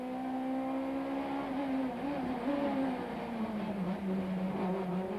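Touring cars race down the pit straight at Kyalami, including a Vauxhall and a Nissan Sentra, their engines droning loudly and sliding in pitch as several cars stream past close by.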